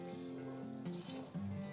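Stock poured into a pot of East Indian chicken curry, a short liquid splash and trickle that runs close and fairly clear, with no voices over it.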